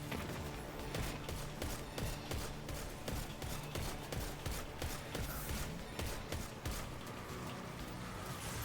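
Rapid, sharp weapon fire rattles steadily through a boss fight in the Destiny 2 shooter game Whisper of the Worm mission, dense repeated shots at low volume with constant background game noise.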